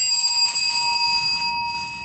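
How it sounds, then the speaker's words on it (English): A single electronic bell tone rings steadily for about two seconds to time a speaker's presentation at an online agriculture working-group session, a clear sustained chime with no talk. "we will ring the bell once"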